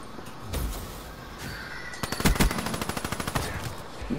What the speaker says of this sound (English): See, another shotgun.